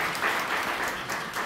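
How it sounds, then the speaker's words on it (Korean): Congregation applauding during a Sunday church service at Immanuel Church in Gurgaon, a dense, steady wash of many hands clapping at moderate distance that fills the room evenly without a break. "우리 박수로 격려하겠습니다."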